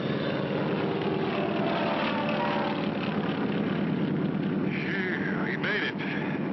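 Cartoon cargo plane engine droning steadily as it gets airborne, a continuous low rumble with a rising whine near the end, mixed under background voices and music.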